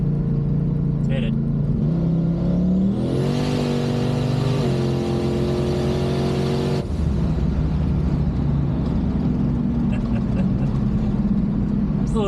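A boosted car with a TH400 transmission launches from a 60 mph roll at about 3,500 RPM. Its loud engine note climbs steadily for several seconds before easing off into a rougher, lower drone.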